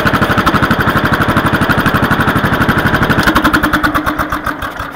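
Allis Chalmers 314D lawn tractor running on a homemade exhaust, a loud, close, rapid chugging putter at an even idle rhythm that softens slightly toward the end.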